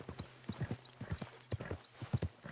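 Quick, rhythmic clopping of horse hooves in the video game Red Dead Redemption 2, close and crisp, repeating steadily without pause.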